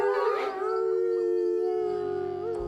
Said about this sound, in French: La forêt de la sorcière est pleine de loups qui vont vous dévorer toutes crues.